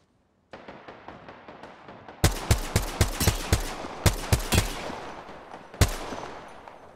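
Apex Legends gunfire: a scatter of sharp, loud shots in uneven bursts, several closely spaced cracks with pauses between, over a low in-game background hum, without speech.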